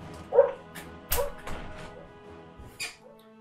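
A dog barks outside an open window: a few short, separate barks at moderate distance, spaced irregularly over quiet room tone.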